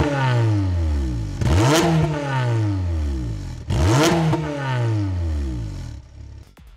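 A Honda Civic Type R VTEC engine with a Mugen exhaust is blipped twice, each rev climbing sharply to a loud howl before dropping back to a rumbling idle, close and with no other sounds.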